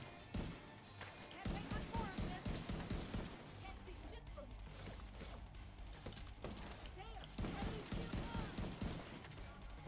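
Rapid automatic gunfire rattles in bursts during a co-op firefight in the video game The Division 2, loud and dense for most of the stretch, with players' voices partly over it.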